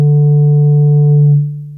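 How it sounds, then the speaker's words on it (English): Synth tone from the U-he Diva software synthesizer run through its cascade filter, a loud, steady, low buzzing note with a few harmonics, held evenly and then dropping slightly in level near the end. "we still get a lot of distortion. It's a cleaner sound, but as you can see, we are distorting the signal."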